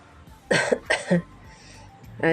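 A woman with a cold coughs in a few harsh, close bursts, two quick coughs followed by a third, then a short pause before another starts at the end.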